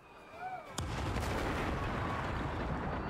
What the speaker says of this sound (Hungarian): Minden robban.